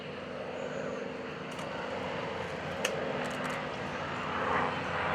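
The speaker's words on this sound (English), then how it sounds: "a Pratt & Whitney air-cooled radial piston engine." A propeller airplane with a Pratt & Whitney air-cooled radial piston engine drones steadily overhead at an airshow, a rough continuous engine rumble holding level throughout with no voices.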